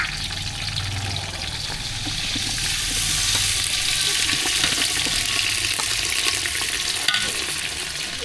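Rice hits a pot of hot oil already holding garam masala, onion and green chillies for a village-style pulao. A dense, continuous sizzle swells and stays loud as the grains are stirred, with soft scraping underneath.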